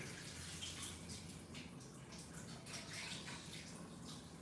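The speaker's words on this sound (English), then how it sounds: "I'm going to rinse this a final time" Cold tap water runs steadily over cooked pasta in a kitchen sink, a soft continuous splashing with faint irregular patters, fairly quiet and without speech.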